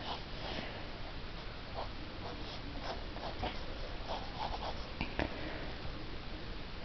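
A pencil sketches a dragon's head and neck on paper, a faint, close scratching of short repeated strokes over a soft background hiss, with no talking.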